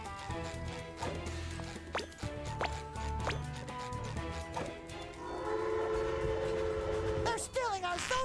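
A train in SpongeBob SquarePants: The Cosmic Shake, Wild West Jellyfish Fields level, rumbles along with sharp clanks, then a sustained horn blast and whistle near the end.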